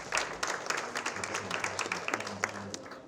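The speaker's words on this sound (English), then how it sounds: "I just want to give you a big hand of applause from us and from everyone." A summit audience at Mastercard's Impact Data Summit closing session gives a round of applause, steady moderately loud clapping from a crowd with some sharper individual claps standing out, lasting a few seconds.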